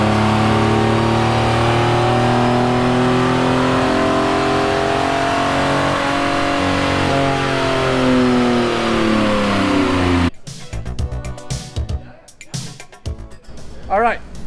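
V6 Dodge Challenger engine on a dyno pull, a loud sustained rev climbing steadily in pitch for about ten seconds, then cutting off to mechanical clatter and speech.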